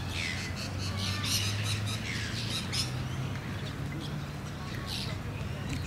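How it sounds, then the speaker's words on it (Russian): Black parrots squawking in trees at Airlie Beach, Australia, with repeated harsh calls over steady background noise and a low hum throughout. "Вот такие черненькие попугайчики."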